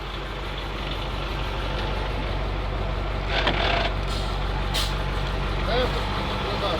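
A ZIL truck rumbles as it reverses, its engine giving a loud, continuous low drone with a couple of hissing bursts, while people talk nearby.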